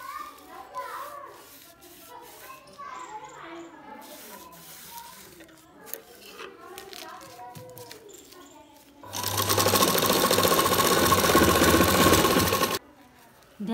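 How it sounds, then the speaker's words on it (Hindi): A sewing machine runs loud and steady for about four seconds, stitching cloth for a Rajputi poshak dress, after a stretch of quieter rustling and handling of fabric. "तो चलिए सिलाई लगाते हैं"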